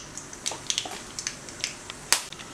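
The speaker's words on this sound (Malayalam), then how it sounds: "ഇതിലോട്ട് കടുകിട്ട് പൊട്ടിക്കാം." Mustard seeds spluttering in hot oil for a tempering, scattered sharp pops and crackles at irregular intervals, close and fairly faint, with no talking.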